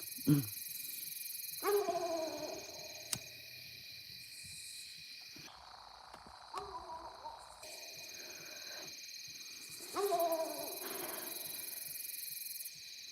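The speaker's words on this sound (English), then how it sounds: "Y'all gonna hear some dogs." A coon dog barks and bays at night in the distance, with a few spaced drawn-out howls rising and falling over a faint steady background hum.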